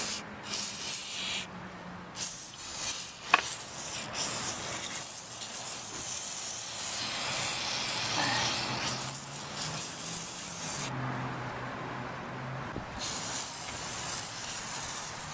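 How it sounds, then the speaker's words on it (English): WD-40 is sprayed onto a caked, sandy motorcycle chain in several long hissing bursts, broken by short pauses, close and fairly loud. "a whole lot of WD-40 to get that caked up gunk and everything else you can find in there off of that bike"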